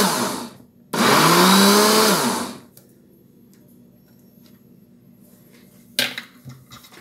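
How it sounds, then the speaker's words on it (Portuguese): A blender whirs loudly for about two seconds, pulsing briefly as it mixes tuna pie batter, then cuts off, leaving a quiet kitchen with a few soft knocks afterward. "Você vai dar uma leve batida."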